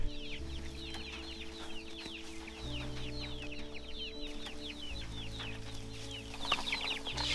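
A flock of Cornish cross meat chickens on a farm clucks and chirps continuously in a busy, overlapping chorus. A low mechanical hum runs underneath and shifts in pitch a few times.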